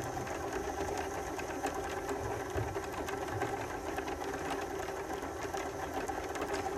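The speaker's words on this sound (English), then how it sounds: "put your foot on the pedal for it to fill the bobbin" A domestic Bernina sewing machine hums steadily while winding a bobbin, an even mechanical whir with faint rhythmic clicking, close and continuous with no talking.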